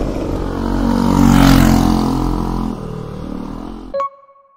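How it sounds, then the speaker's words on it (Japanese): A Vespa scooter climbing a steep stone-paved mountain road: a loud, close engine drone that swells and then eases, ending in a sudden cutoff with a short tonal squeak. "ベスパで走っております"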